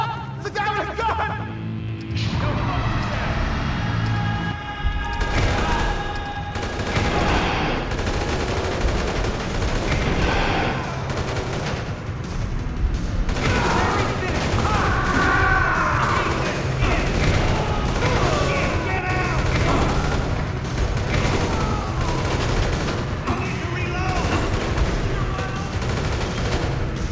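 Gunfire rattles through a Grand Theft Auto V shootout: dense, continuous bursts and booms fill the whole stretch, with game voices shouting underneath.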